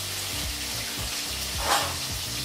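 Cumin seeds and green chillies sizzle steadily in hot oil in a pan, a close, continuous frying hiss with a brief louder crackle, and no talking.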